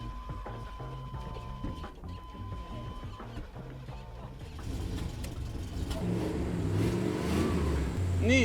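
A 7.4-litre 454 Chevy V8 in a dually truck cranks and fires up, its engine roar building steadily louder and rougher as it revs over the second half.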